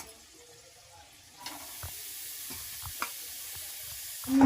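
Papaya pieces drop into a hot pan and sizzle softly, with a steady frying hiss and a few scraping stirs, fairly quiet and close, with no one talking over it.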